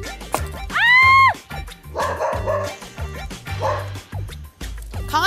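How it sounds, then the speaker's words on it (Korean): A dog barks and yips in a sharp, loud, close series, with one drawn-out whining yelp, indoors while people cook dough for a meal. "강아지가 화났는데요?"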